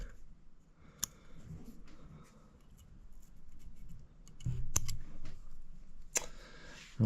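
New scissors snip bucktail hair on a fly-tying bench, a few sharp isolated clicks and cuts spread over quiet background rustling.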